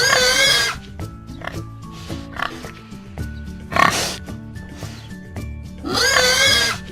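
A pig oinks in two loud grunting bursts, one at the start and one at the end, with a short snort between them, all over cheerful melodic children's music.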